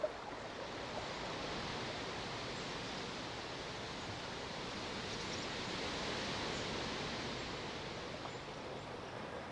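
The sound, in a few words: flowing water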